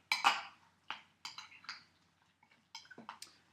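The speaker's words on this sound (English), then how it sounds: "So just mix all this together." A utensil stirs a tomato and cheese mixture in a bowl, giving sparse close clinks and scrapes in short irregular bursts with quiet gaps between them.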